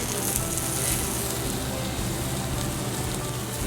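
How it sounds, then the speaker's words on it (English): A pork chop sears in a hot pan with a dense, steady, crackling sizzle that holds at an even level from start to finish, with no talking. "You give it a very nice sear"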